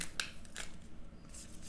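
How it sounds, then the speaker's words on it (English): Tarot cards being shuffled, with a few quick soft riffling bursts at close range, separated by brief quiet gaps. "I'm going to shuffle again."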